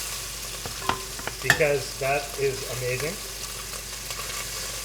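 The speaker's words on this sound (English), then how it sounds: "the most important part about this is you hear that sizzle" Bacon and vegetables sizzle and crackle in a hot pan of bacon fat with scattered pops and stirring clatter, while someone talks briefly over it.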